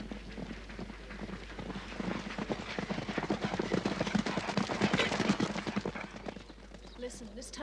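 Horse hooves clip-clop steadily and fairly close in a Boomerang cartoon, a dense rhythmic run of hoofbeats swelling in the middle and easing off near the end, with voices talking over them.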